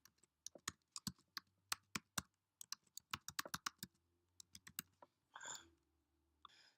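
Rapid, irregular keystrokes on a computer keyboard as a domain name is typed, crisp close-up clicks in quick bursts with brief pauses, fairly quiet overall.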